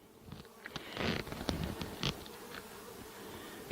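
Honey bees buzz during a five-frame nuc transfer, a soft, close hum with scattered brief louder passes as individual bees fly near, fairly quiet overall.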